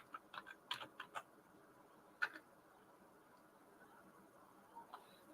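Keys clatter on a computer keyboard in a brief cluster of quick, faint taps, followed by a single louder keystroke and then a couple of light clicks near the end, with quiet room tone between.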